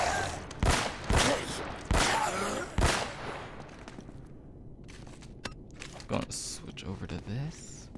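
Short bursts of gunfire from Uncharted: Nathan's Fortune crack out as several sharp, loud volleys in the first few seconds, followed by scattered fainter shots, footsteps and background game noise.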